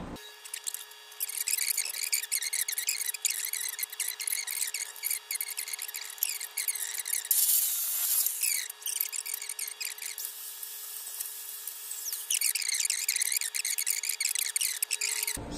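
Steel bar stock being cut to 12 inches for a step on a Farmall Super A tractor, a steady high grinding or sawing whine that runs continuously, drops briefly near the middle and picks up again, with no talking.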